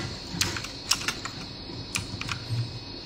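Clacky keystrokes on an inexpensive, noisy computer keyboard, arriving in short irregular bursts of close, crisp taps with brief pauses between them.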